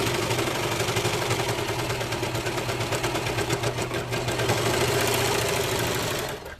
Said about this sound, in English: put it in there, sew a couple stitches, make sure my edges are lined up